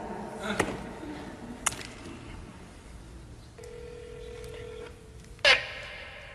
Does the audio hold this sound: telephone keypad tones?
yes